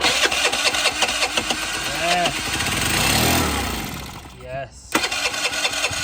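A battered, rebuilt petrol scooter engine at full throttle cranks, catches and revs up loudly nearby, sputters and dips, then picks up again, with a voice speaking briefly over it.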